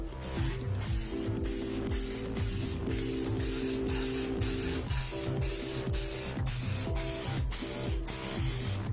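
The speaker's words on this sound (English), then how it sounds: "And then you spray it on where you need it." An aerosol can sprays adhesive onto a custom Funko Pop vinyl box in a series of short hissing bursts, close and fairly even in rhythm, with a faint mechanical hum underneath.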